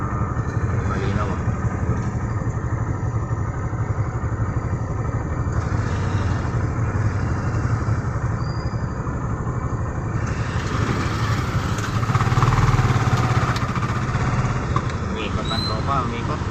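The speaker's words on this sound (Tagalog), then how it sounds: "medyo traffic pa mga kabiyero" Slow road traffic with idling car engines and motorcycles, a steady rumbling drone with a louder engine surge near the end, heard close under ongoing talk.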